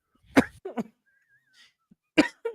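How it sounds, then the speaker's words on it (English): Two short bursts of coughing, each a sharp hack followed by a smaller one, separated by a quiet pause with a faint whistle-like tone. "now I'm going to cough for the next whatever."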